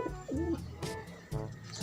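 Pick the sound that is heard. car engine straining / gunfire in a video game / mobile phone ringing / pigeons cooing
pigeons cooing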